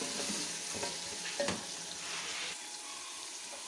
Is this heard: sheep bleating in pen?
no